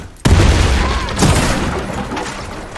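In the game Warface, a sudden loud AWP sniper rifle shot rings out, followed about a second later by a second heavy shot, each trailing off in a long echoing rumble.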